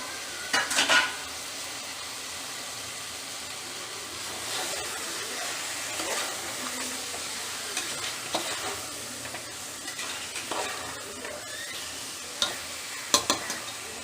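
Chicken fries in a pan with softened tomatoes under a steady sizzle, while a spoon scrapes and stirs in repeated bursts and knocks against the pan now and then, heard close and with no talking.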